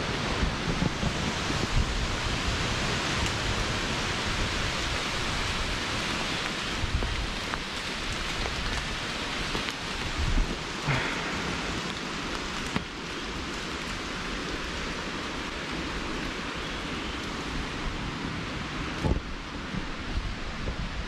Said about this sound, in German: Erst fängt es da hinten an zu rauschen in den Baumwipfeln und dann kommt es immer weiter hierher, bis dann der Wind hier bei mir durch die Bäume geht.